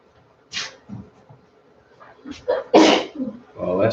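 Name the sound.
sneeze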